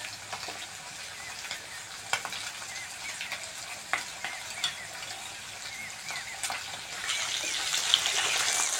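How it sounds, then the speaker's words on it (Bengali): Soft fish fry in oil with a steady sizzle and scattered sharp crackles and pops, growing louder and brighter toward the end, heard up close without voices. "এই মাছগুলো প্রচুর নরম মাছ, একটু হালকা হাতে ধরে ধরে ভাজতে হয়।"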